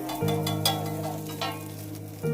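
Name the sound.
chowmein being cooked at a street food stall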